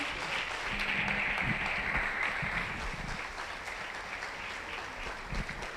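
A church congregation claps together in a steady, sustained wash of applause, filling the room evenly throughout, with faint voices mixed in.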